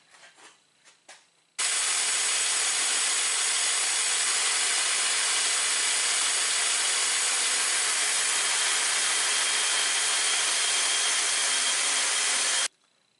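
A long wooden grip for a chopping tool is cut to shape, producing a loud, steady, unbroken rasping noise for about eleven seconds that starts and stops abruptly.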